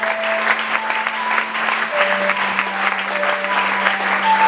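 A church congregation applauding steadily throughout, dense close clapping with a sustained organ or keyboard tone underneath.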